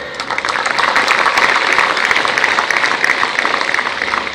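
Steady applause from an audience at a public event, continuous and fairly loud throughout with no pause.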